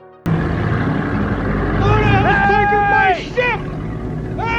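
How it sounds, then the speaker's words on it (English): A boat motor abruptly starts and roars close by in a drama scene aboard a ship in calm seas, its steady drone running under loud shouting voices before dipping near the end. "it sounds like someone just stole their boat"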